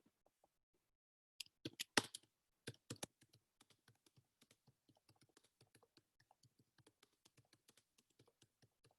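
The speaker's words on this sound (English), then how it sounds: "Typing them a few things." Steady typing on a computer keyboard, close and fairly quiet, with a quick burst of louder keystrokes early on and then an even run of light clicks.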